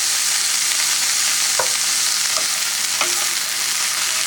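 A burdock and milkweed stir-fry sizzles steadily in the pan while being stirred, with a few soft utensil scrapes over the constant close frying hiss.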